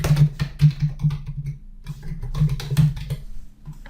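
Keys clatter on a computer keyboard as an account name is typed into accounting software, a close run of uneven keystrokes with brief pauses.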